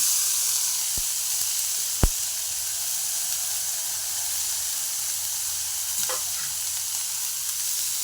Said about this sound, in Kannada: ಸ್ವಲ್ಪ ಈರುಳ್ಳಿ ಬಾಡ್ತಾ ಇದ್ದಂಗೆ ಫ್ರೈ ಮಾಡಿ ಇಟ್ಕೊಂಡಿರುವಂತ ಗೋರಿಕಾಯಿನ ಹಾಕ್ಕೊಳ್ತಾ ಇದ್ದೀನಿ